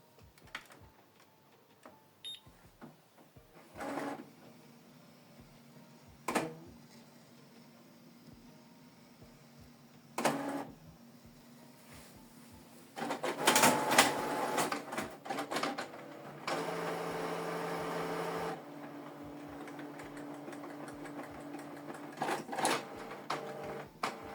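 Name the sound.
inkjet printer powering on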